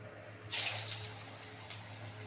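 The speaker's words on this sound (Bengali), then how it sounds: "তেল গরম হয়ে গেছে এবার একটা একটা করে বড়াগুলো দিয়ে দেবো" Jackfruit seed fritters slipped one by one into hot oil, a sudden bright hiss breaking out and settling into a steady, soft sizzle with a small flare near the end.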